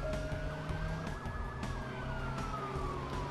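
Police sirens wail continuously in the Watch Dogs video game as cruisers chase the player's car, the rising and falling tones layered over a steady engine rumble.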